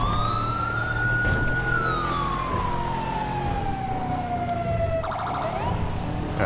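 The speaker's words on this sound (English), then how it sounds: "Why is there an unmarked truck with lights and sirens hauling lawnmowers." A police siren on an unmarked truck hauling lawnmowers in Grand Theft Auto V with the LSPDFR mod wails loudly and continuously, sweeping slowly up and down in pitch over steady vehicle and ambient game noise, with a brief burst of short tones near the end.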